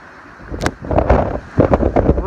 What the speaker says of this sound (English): Whoa, a little windy up here on this viewpoint